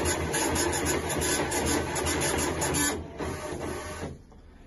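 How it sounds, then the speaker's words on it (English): A printer at a fire station runs steadily with a dense mechanical whir and rasping feed, slowing and fading near the end as the job finishes. "in here we have the printer"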